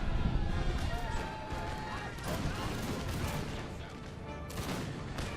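Musket rifle volleys crackle in Napoleon Total War, a dense, ragged battle din of overlapping shots and distant pops with someone talking over it.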